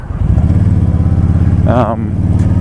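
A motorcycle engine runs steadily close by, a deep continuous rumble with a brief higher-pitched rising whine partway through.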